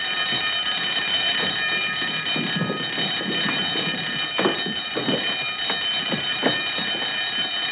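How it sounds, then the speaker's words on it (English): An alarm rings continuously with a steady, harsh buzzing tone that runs unbroken through the whole stretch, with scattered knocks and bumps underneath. "Turn off the alarm."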